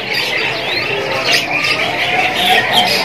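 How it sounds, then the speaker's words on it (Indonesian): Young F3 canary chicks, about two and a half months old, keep up a busy, high squawking and chirping chatter, close and fairly loud, with a few faint human sounds in the background. "Untuk jenis kenari F3 yang anakan."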